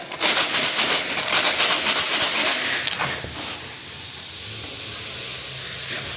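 Coarse sanding strips, 20 grit for a drum sander, folded and rubbed against each other: a loud, gritty rasping hiss for about three seconds, then a quieter scratchy tail that fades to low background noise.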